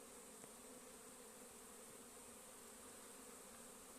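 Honey bees at spring hive colonies make a steady, even buzz that holds without a break, faint and continuous with no voices.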